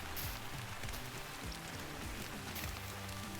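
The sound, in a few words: rain falling at Layton Lakes in hunting video game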